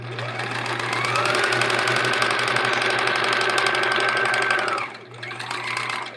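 A sewing machine runs fast and loud while piecing quilt scraps together, a sustained mechanical whir that stops briefly near the end and starts again, with no voices.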